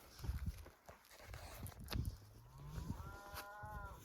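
A draft horse neighs in a long whinny with rising and falling harmonic tones, among shuffling and thumping farmyard noises.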